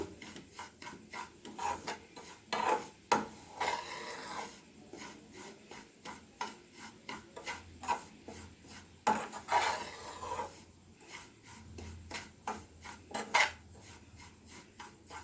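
Semolina stirred and roasted with a spoon in a pan over a medium flame for pineapple kesari bath, quick repeated scraping and clinking strokes, close but fairly quiet, no talk.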